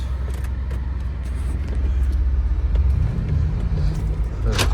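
A 2017 Mercedes-Benz G63 rolls slowly while being parked, a steady close engine rumble heard from inside the cabin with low drive noise and a few light knocks and clicks.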